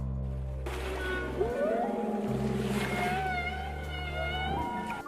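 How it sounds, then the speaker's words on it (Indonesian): A whale vocalizes with long rising and wavering tonal calls over a washy ocean background and a low sustained musical drone, steady and moderately loud. "Ikan paus berkicau."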